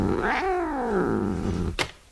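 A cat lets out a single drawn-out caterwaul, rising then sliding down in pitch, followed by a short sharp hiss or spit, close and fairly loud with no talk.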